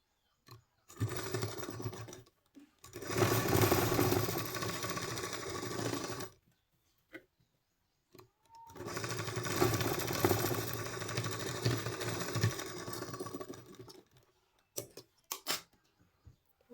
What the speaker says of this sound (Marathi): शिलाई लॉक करून घ्यायची म्हणजे शिलाई उसवत नाही हे बघा